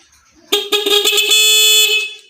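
A loud, shrill electronic alarm from a homemade motorcycle anti-theft device blares steadily for about two seconds after a few stuttering starts, close and harsh, with no voices.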